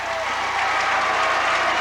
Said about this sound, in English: He comes in for Gertz, and Gertz gets a win of a round of applause